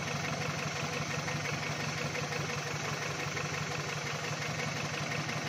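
A car engine idles steadily while warming up just after being started, a continuous low mechanical rumble with even vibration and no voices.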